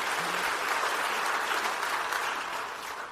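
Audience applause at a political address about schools, a steady dense wash of clapping from a crowd that fills the whole moment without speech.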